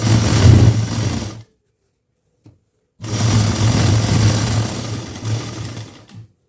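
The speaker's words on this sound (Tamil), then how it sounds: "ரெண்டாவது தையல் அடிச்சு" A sewing machine stitches a lining blouse in two close, loud runs: a short burst of fast, even needle hum, a pause of silence, then a longer steady stretch of stitching that slows and stops.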